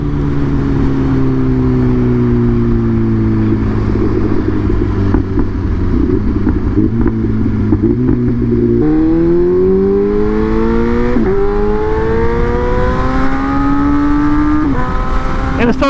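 A BMW M1000R motorcycle engine pulls smoothly through rising revs with stepped gear changes, its steady, loud tone climbing continuously under wind noise.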